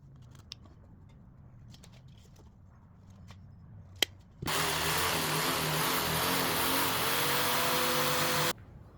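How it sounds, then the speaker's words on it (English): A power tool starts abruptly and runs loud and steady for about four seconds, cutting a driver opening into wood for a speaker recess, after a quiet stretch broken by a few small clicks. "I'm going to go ahead and cut out the driver opening"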